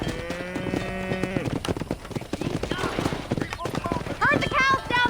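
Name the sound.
cattle herd and horse hooves on road in Red Dead Redemption (video game)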